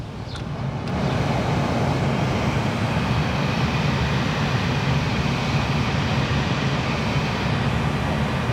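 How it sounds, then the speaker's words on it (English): A Toyota Yaris cabin ventilation fan blows steadily and loudly after a short rise at the start, a constant broadband rush of air with no voices. "we can just check that by turning the fan on and feeling which way the air is blowing"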